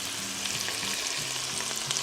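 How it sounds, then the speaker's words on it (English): Green beans frying in butter in a single pan, a steady close sizzle with soft stirring scrapes, no voices. "You hear the sizzle? Sizzle. Cooking ASMR."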